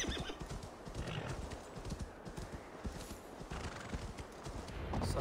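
A horse in Assassin's Creed Valhalla clatters over rough ground, its hooves striking in quick, irregular thuds and a neigh rising above them, close and fairly loud across the whole stretch.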